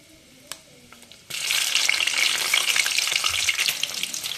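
Green chillies hit hot oil with fenugreek seeds and burst into a loud, steady sizzle after a few quiet clicks, the frying continuing without a break.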